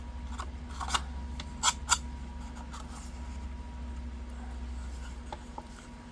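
Paper being trimmed for cardmaking with a paper trimmer, a few quick crisp slicing and rubbing sounds, close and soft, with two sharper cuts in the middle over a low steady room hum.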